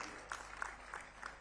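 A large crowd applauds for Chief Minister Vishnu Deo Sai at the Chhattisgarh Rajyotsav 2024 opening ceremony, a faint, steady wash of clapping with no break.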